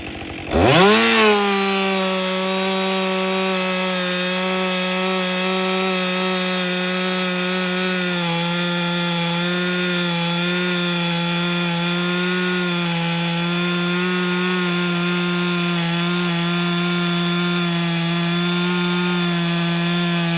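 A chainsaw with M-Tronic engine management revs up and holds a loud, steady high-pitched whine while making long, continuous cuts through wood.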